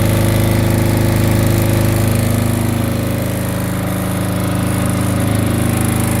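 A SENCI SC7500Q generator, a 2023 unit, runs steadily and loudly close by, its engine drone and harmonic hum continuous and unbroken with no talking.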